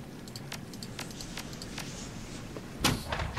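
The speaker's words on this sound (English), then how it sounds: "Door unlocks." A door unlocks and slides after a code is entered in the Shadowrun Hong Kong video game. A mechanical clunk and whoosh come near the end after a stretch of faint ambient clicks.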